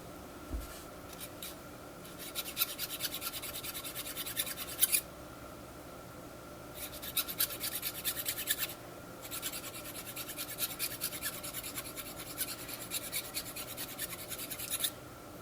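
Hand file rasping against a silver band ring, repeated scraping strokes in bursts with brief pauses between, close and moderately quiet.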